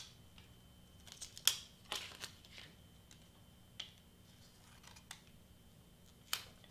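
Scissors snip close around a Cricut-cut piece on a notebook, a scattering of quiet, crisp cuts spaced irregularly with one sharper snip, faint and close with no talk.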